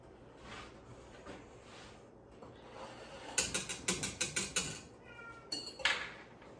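A cat named Andy meows to go outside, a few faint cries in the background of a kitchen, followed by a burst of rattling, ratchet-like clicks.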